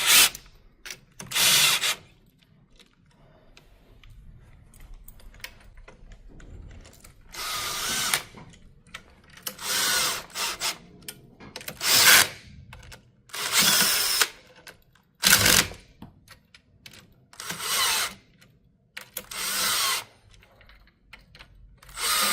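A power tool tightens bolts on a beach wheelchair axle in repeated short whirring bursts of a second or two, separated by quiet gaps and faint handling rattles, close and loud.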